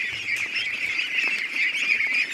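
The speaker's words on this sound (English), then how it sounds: "Alright, let's let the ducklings out." Ducks and young ducklings call together at close range, a steady mass of overlapping quacks and peeps forming a continuous bird chorus with no talk over it.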